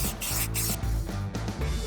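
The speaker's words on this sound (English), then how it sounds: "I'm gonna take my marking spray and mark off a nice 4-foot radius" A can of marking paint hisses in short bursts as it is sprayed onto the ground to mark out a 4-foot radius for a concrete patio, with brief pauses between the close, rough sprays.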